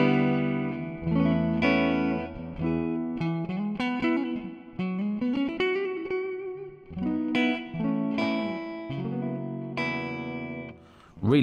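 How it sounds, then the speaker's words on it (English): Electric guitar through a Line 6 HX Stomp modelling a Fender Twin amp with a 1x12 Creamback cab, bright clean chords and melodic lines with slight reverb, steady and close throughout. "So a twin, a Fender twin sound with a cream back."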